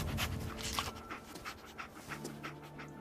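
Dogmeat, the companion dog in Fallout 4, pants steadily and close by in quick rhythmic breaths over a low game ambience, with no talking.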